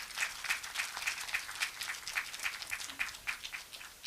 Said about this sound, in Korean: 여러분들 큰 박수로 맞이해 주시죠.